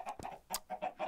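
Chickens cluck in a row of short, close, moderately quiet calls, a few with sharper squawks, inside the blocky sandbox game Minecraft near a farm with pigs.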